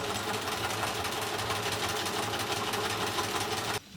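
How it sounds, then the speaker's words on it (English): An overlocker serger runs steadily while stitching a dress side seam, a close, even mechanical whir with a rapid stitching rhythm that stops abruptly near the end. "And I'm going to separate these as I overlock them"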